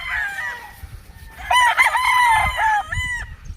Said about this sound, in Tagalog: Ito guys, ang ganda ng broodstag.